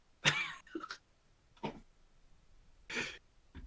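Several short, breathy coughs in separate bursts, close and moderately loud, with pauses between them.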